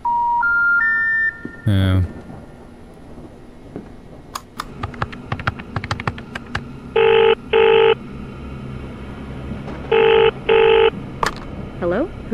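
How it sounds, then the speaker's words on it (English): In a haunted house video game, an old-style telephone rings in two paired bursts of bright trilling tones, clear and fairly loud, among scattered clicks, tones and brief speech. "I heard the phone."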